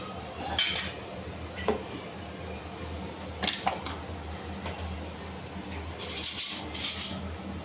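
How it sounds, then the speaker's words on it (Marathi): Yogurt being whisked in a bowl for dahi vada, scattered clinks and scraping strokes of a utensil against the bowl, with brief louder bursts near the end over a low background hum. "तर आपण तोपर्यंत जे दही आहे आपण ते फेटून घेऊया."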